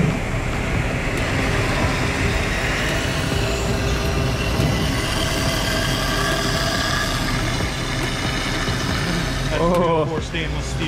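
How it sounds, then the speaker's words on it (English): An automatic saw cuts a stainless steel billet into slugs, a steady loud machining drone with grinding and hum running continuously throughout, with a brief voice near the end. "then we cut that up into slugs in our automatic saw"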